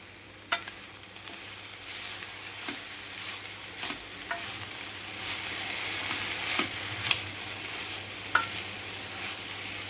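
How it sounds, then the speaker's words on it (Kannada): Onion and tomato masala for mutton biryani fries in a pan, a steady close sizzle with scattered scraping stir strokes and occasional sharp clicks of the utensil, with no talking. "ಈಗ ಫ್ರೈ ಆಗ್ತಿದೆ ಅಲ್ವಾ, ಇದಕ್ಕೆ ಈಗ ಈರುಳ್ಳಿ, ಟೊಮೆಟೊ, ಹೆಚ್ಚಿರೋ ಈರುಳ್ಳಿ ಟೊಮೆಟೊ ಎಲ್ಲ ಹಾಕಿ ಚೆನ್ನಾಗಿ ಫ್ರೈ ಮಾಡಬೇಕು."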